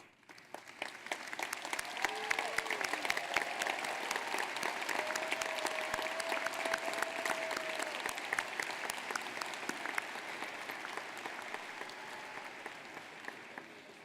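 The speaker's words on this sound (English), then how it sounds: "Would the parents of our candidates please stand and receive our applause?" A graduation commencement audience at a university business college applauds the candidates' parents with sustained, even clapping that fills the hall, heard at moderate distance with faint tonal sounds mixed in.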